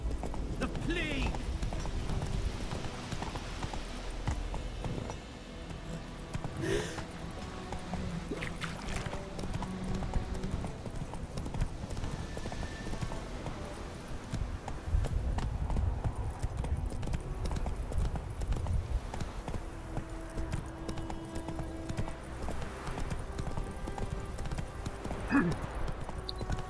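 Roach, a horse in The Witcher video game, gallops with steady, quick hoofbeats throughout, mixed with game effects, an occasional whinny and people talking over it.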